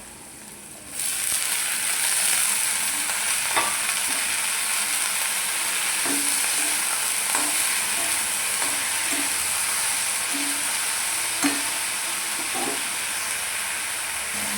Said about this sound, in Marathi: आता आपण भाजी घालूया